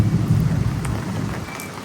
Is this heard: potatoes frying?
no